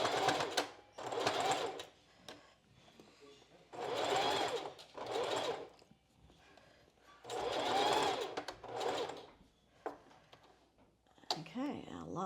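Sewing machine stitching a strapless bra seam, running in several separate bursts of a few seconds each, with pauses between them and brief talk in the gaps.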